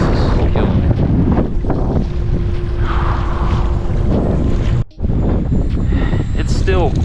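Strong wind blows over a lake in cold weather, buffeting the microphone with a loud, continuous roar. A brief dropout interrupts it midway, and faint voice-like sounds surface within the noise.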